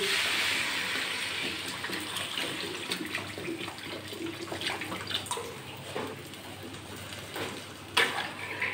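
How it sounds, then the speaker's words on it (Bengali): Water poured into a cooking pan while making a curry, a steady close stream splashing and trickling for several seconds, fading slightly with a small clatter near the end. "এবার আমি জল দেবো, জল দিয়ে দিচ্ছি।"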